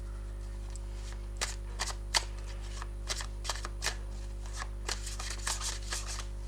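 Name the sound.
shuffling tarot cards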